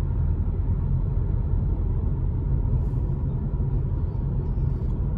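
A car engine rumbles low and steady while driving along the Seawall on Galveston Island, Texas, a continuous close drone with road noise and no talking.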